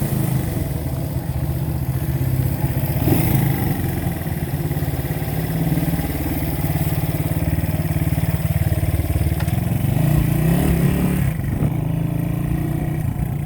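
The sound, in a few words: 1970 Honda CB100 Super Sport motorcycle ride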